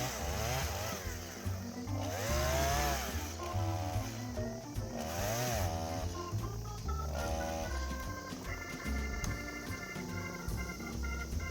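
A chainsaw cuts thin firewood logs set on the ground, its loud engine note climbing and dropping as it revs and bogs through the wood, close up and steady for the whole stretch.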